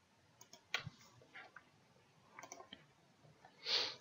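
Mouse clicks on an application button in a Windows Phone 8 development setup, a few faint isolated clicks spread over a few seconds in a quiet room.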